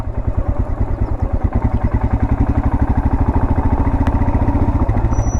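A geared motorcycle pulls away slowly on half clutch with a little throttle, its single engine thumping in a steady, close, low-pitched rhythm that stays level and loud throughout.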